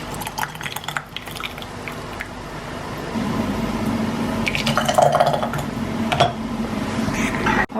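Hot blueberry juice poured into sterilized glass canning jars, a trickling, gurgling fill that grows louder and steadier midway, with small clinks of glass and drips, no talking.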